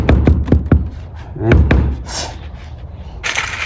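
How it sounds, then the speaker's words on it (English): Several sharp metallic hammer taps on an outdoor outlet box in quick succession, then a few more knocks after a pause, close by with some handling noise. "I just used this hammer to get it in."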